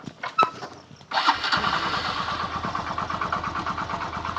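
A motorcycle engine cranks and catches after a few brief knocks, then settles into a steady, close idle with a throbbing rhythm.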